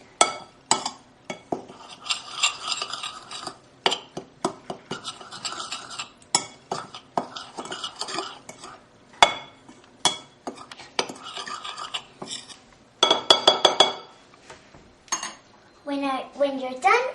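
Ingredients, including grated rind, are stirred together in a large bowl, giving repeated clinks and scrapes of a utensil against the bowl in irregular bursts throughout, close and fairly loud, with occasional faint voices.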